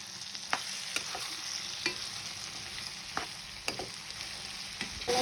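Bottle gourd pieces and tomatoes are stirred in a pan, a steady sizzle broken by a series of sharp scraping clicks from the spoon, close and alone.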